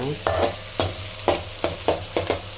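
Onions sizzle in a pan under a low steady hiss, with about six regularly spaced, crisp scraping stirs of a spatula, close and clear, with no talking.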